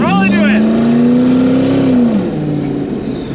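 A 1300hp turbocharged Ford Mustang pulls hard at partial throttle, its loud engine note climbing steadily, then easing off as the revs drop. Voices speak over it at the start.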